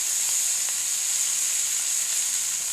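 Steam hisses steadily from water splashed into a hot pan of shrimp fried rice with garlic, a bright, continuous sizzle held at even loudness throughout, with no talking.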